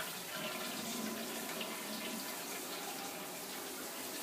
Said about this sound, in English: My little brother's in the shower right now.